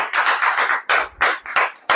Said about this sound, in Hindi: ताली नहीं बजेगी?